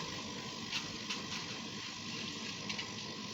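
Water for rice churns and bubbles in a pot at a steady rolling boil, a continuous close hiss and gurgle with no voices.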